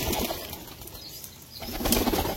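Pigeons flap their wings and scramble for scattered feed, producing a close, continuous rustle of wingbeats and pecking that briefly eases, then surges louder again.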